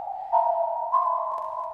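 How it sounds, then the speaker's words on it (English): A delay effect in Reaper applied to a duplicated signal, producing a sustained electronic tone with shifting interference, swelling twice in brief bursts before settling into a steady warbling hum. "it's delaying that duplicate signal to give us these crazier interference"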